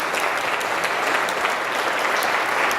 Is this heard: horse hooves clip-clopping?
no